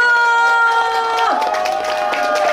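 Crowd applause and cheering from a large outdoor audience at a cherry blossom festival performance in Mungyeong, South Korea, loud and continuous, with a sustained musical tone running underneath throughout.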